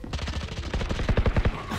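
Rapid automatic gunfire in the video game Valorant, a loud close burst of evenly spaced shots that tightens toward the end, with no talking.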